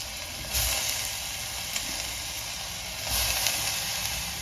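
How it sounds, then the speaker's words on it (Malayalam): Green pigeon peas and potatoes dropped onto softened onions in a hot pan, giving a steady close sizzle and hiss with two brief louder bursts as pieces land and get stirred. "തുവരയും ഉരുളക്കിഴങ്ങും ഇട്ട് കൊടുക്കാം"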